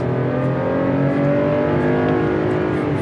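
A Ford Police Explorer accelerates hard from a standing start, its engine revving loudly and climbing steadily in pitch as it pulls through the gears, close and dominant with no talking.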